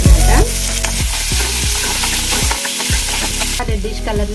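Half a tomato hitting hot oil in a pan with ginger, a loud, dense sizzle and crackle with repeated stirring strokes over a few seconds.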